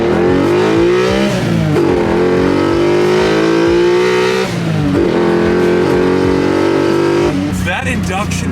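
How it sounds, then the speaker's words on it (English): A BMW E30 with a swapped S54 engine revs hard under acceleration with a loud rising intake roar, easing off briefly and climbing again, while people talk over it. "That induction noise is fucking ridiculous."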